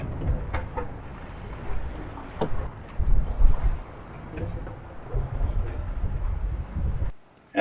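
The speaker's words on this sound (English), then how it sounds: "the wind is coming down directly on us from there" Wind gusts buffet a sailboat at sea ahead of a squall, a steady broadband roar with rougher surges midway, filling the whole stretch before cutting off abruptly near the end.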